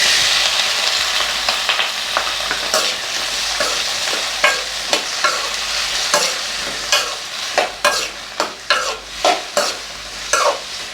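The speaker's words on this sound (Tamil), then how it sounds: "இதோட நம்ம கட் பண்ணி வச்சுருக்க தக்காளியை சேர்த்துக்க போகிறோம்." Chopped tomatoes sizzle steadily in a hot pan for a spicy Tamil tomato chutney, with a spoon scraping and stirring in repeated sharp strokes over the constant frying hiss, close and without talk.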